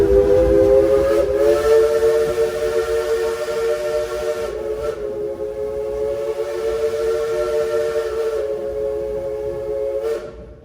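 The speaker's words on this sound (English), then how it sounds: "we'd like to give a couple of train whistles in your honor" The Frisco Silver Dollar Line steam train at Silver Dollar City blows its whistle loudly in long, wavering chord-like blasts, separated by brief breaks, with hissing steam in the background.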